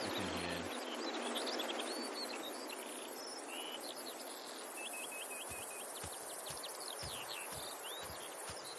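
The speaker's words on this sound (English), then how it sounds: "So the skylark is that melodic bird you can hear." Melodic skylark song ringing out over a meadow, continuous trilling phrases and warbles set against a steady hiss of crickets, with the lark a little distant and no talking.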